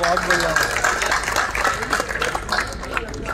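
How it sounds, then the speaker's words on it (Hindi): Audience applause at an Indian pigeon-keeping (kabutar) event in Delhi, a dense wash of clapping from a crowd, steady and moderately loud, with a voice speaking over it. "बहुत जोरदार तालियां"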